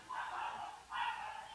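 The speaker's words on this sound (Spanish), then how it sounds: "un momentico que mi perrita se desesperó" A small female dog barks twice indoors, two close, sharp yelps a short moment apart.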